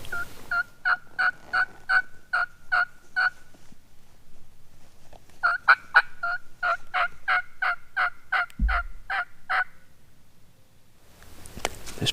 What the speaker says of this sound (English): turkeys gobbling intermittently up in there